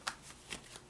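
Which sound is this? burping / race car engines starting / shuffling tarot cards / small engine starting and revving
shuffling tarot cards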